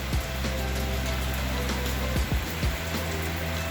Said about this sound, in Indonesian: Ini kebetulan malam hujan